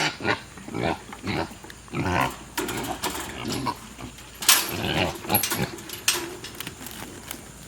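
Pigs grunt and squeal in quick bursts amid scuffling and clattering during a pig race, with a lively, chaotic burst of animal noise in the middle.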